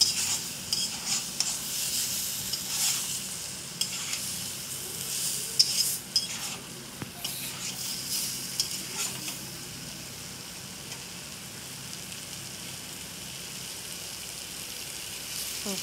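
Fish roe masala sautéing in a pan, a close sizzle broken by repeated scraping and clinking stirs over the first half, then settling into a steadier, quieter fry with no talk.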